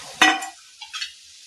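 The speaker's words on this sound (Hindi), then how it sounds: "आब एहिमे आलू परोर जे तरने छलहुँ से मिला दै छी।" A spatula scrapes through fried potatoes and pointed gourd in a pan, one firm stir followed by a couple of lighter scrapes, close and brief with no speech.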